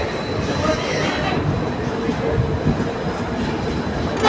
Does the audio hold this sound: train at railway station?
yes